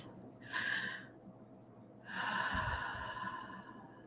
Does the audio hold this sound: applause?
no